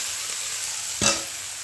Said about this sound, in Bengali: এবারে বেগুনটা দিয়ে দিই